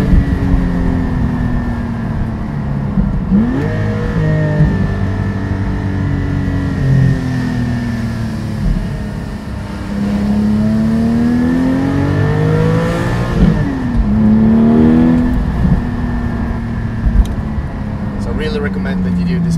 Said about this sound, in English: the exhaust gives you a completely different note and tone